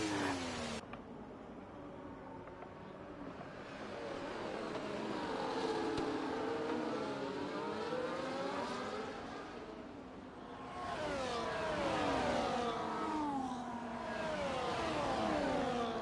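Race cars on the Monza circuit in a racing game, several engines whining and rising in pitch as they run close together, overlapping revs swelling and fading in and out.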